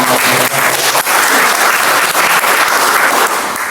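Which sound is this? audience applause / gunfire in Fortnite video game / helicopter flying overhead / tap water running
audience applause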